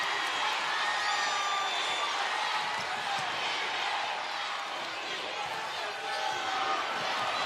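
Roaring crowd at a 2017 SEC Tournament women's basketball championship game, a loud continuous wall of cheering and whoops that barely dips, with a commentator talking over it.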